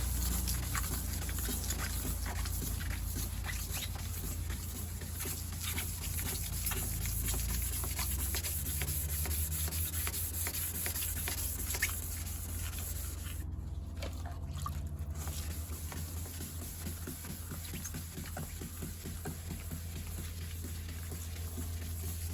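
Wet sanding of a Renault Clio headlight lens with 1200 grit sandpaper makes a steady, close, rhythmic scrubbing with a watery swish that continues without a break.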